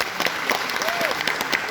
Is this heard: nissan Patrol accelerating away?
no